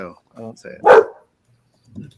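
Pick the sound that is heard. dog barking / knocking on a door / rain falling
dog barking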